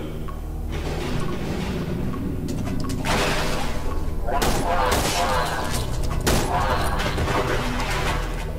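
Gunfire in the horror video game Cry of Fear, with several loud, sharp shot bursts around the middle and end over a constant rumbling background, and someone talking in between.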